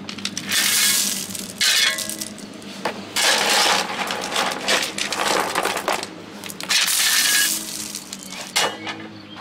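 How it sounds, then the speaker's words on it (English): Gravel being dumped and packed into deck footing holes for a ground-level floating deck, with long, close, rough crunching and rattling pours in several surges and short gaps between them. "filling up with gravel that I stole from our driveway, and I'm just dumping it in there and then making sure it's packed in really good"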